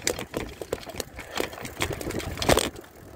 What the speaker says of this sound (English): That's mostly what you're hearing is my camera rattling.